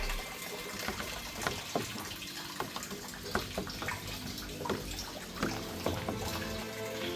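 Water sloshing and swirling in a container as AB mix hydroponic fertilizer solution is stirred to dissolve, a steady wet churn with regular splashy strokes, close and continuous, no talking.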